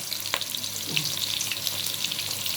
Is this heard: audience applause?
no